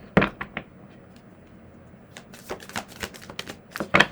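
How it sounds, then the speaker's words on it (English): Tarot cards are shuffled by hand in close, crisp bursts of riffling and snapping, with a pause in the middle before a longer run of shuffling. "I'm going to shuffle one more time, then pull"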